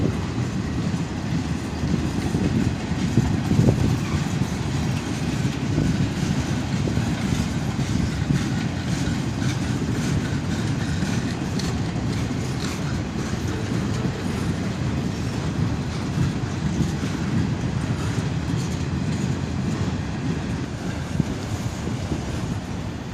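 A long freight train of covered hoppers and an old rusty boxcar rolls past close by, a steady loud rumble with faint clickety-clack of wheels and wind buffeting the microphone throughout, no voices.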